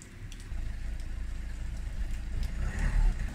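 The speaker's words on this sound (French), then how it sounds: "j'ai la fenêtre ouverte, donc on entend les voitures" Cars on the street outside an open apartment window, a low rumbling traffic wash that swells toward the end as a vehicle passes closer, with no talking.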